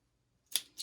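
Blanket fabric is cut open in two quick, crisp snips close to the microphone, with silence before and between them.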